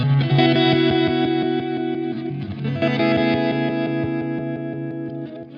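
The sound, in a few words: guitar reverse delay effect swelling in with repeats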